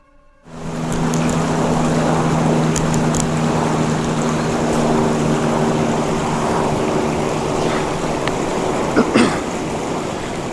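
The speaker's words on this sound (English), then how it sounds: "I heard what sounded like a boat coming up the river." A motorboat approaching up a river, a steady engine hum over broad water and outdoor noise, heard from a riverside campsite with a few faint clicks near the end.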